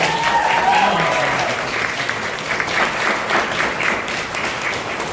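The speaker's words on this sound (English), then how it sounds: "Can we give Tegan a round of applause?" A coffee-hour audience gives the evening's impromptu sound technician a round of applause, loud, dense clapping from a crowd with a few brief voices over it at the start, holding steady throughout.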